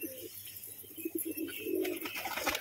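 Caged pigeons coo repeatedly in soft, rounded pulses close by, over a faint background hum with some rustling toward the end.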